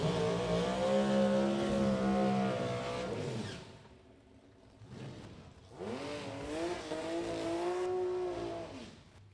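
A six-cylinder drag racing car at Route 66 Raceway roars through a burnout, engine tones rising and sweeping, dropping to a lull midway before revving up again, heard from a distance.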